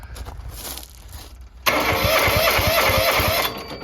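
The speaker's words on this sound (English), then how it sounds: "Now if we start the tractor up" After a quiet stretch with faint background noise, the diesel engine of a John Deere G4200 tractor with a mechanical fuel pump conversion cranks and catches, settling into a loud, steady rumble before easing slightly.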